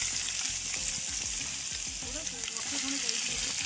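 Onions and whole spices such as bay leaf, cinnamon and cardamom fry in a pan at a night campsite by Kala Dam, giving a steady close sizzle with stirring scrapes throughout.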